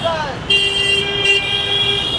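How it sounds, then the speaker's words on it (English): A vehicle horn on a busy Kolkata street sounds one long, loud, close blast lasting about a second and a half, over faint traffic noise. "why do you need to honk at me like this?"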